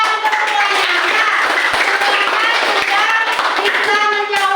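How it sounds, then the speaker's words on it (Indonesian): Fifth-grade children clap their hands in class, a quick rhythmic patter of many small claps running steadily under a teacher's talk. "Ya, tepuk tangan untuk semuanya."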